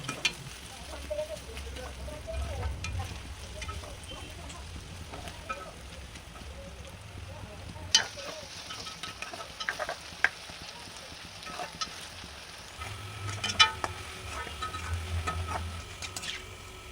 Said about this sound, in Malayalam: നല്ലെണ്ണ ചൂടായി വരുമ്പോഴേക്കും അതിലേക്ക് വട്ടത്തിലരിഞ്ഞ് ഇഞ്ചിയിട്ട് നല്ലോണം മൂപ്പിച്ചെടുക്കണം.